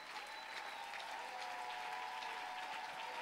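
Church congregation applauding steadily, a dense even wash of clapping with faint cheers mixed in, sustained without a break and heard from within the room.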